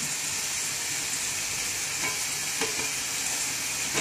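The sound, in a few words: tomatoes frying for fish curry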